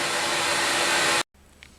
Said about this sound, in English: it just sounds like air rushing out of a pipe